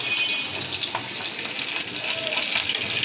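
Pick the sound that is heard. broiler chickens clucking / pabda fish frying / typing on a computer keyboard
pabda fish frying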